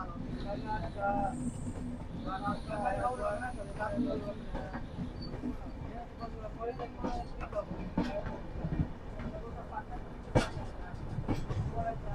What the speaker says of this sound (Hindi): वहाँ पे कोई और एक ट्रेन आ रही है